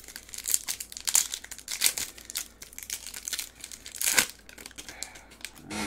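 Foil wrapper of a 2022 Topps UK Edition hobby trading card pack torn open with repeated crinkling, crackling bursts, close and fairly loud, no talking.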